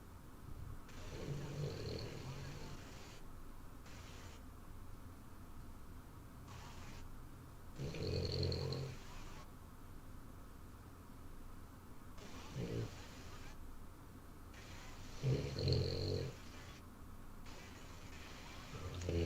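Kelly's dog growls and snores into a microphone, making low, rough rumbling bursts that come back every few seconds at fairly close range over a quiet background.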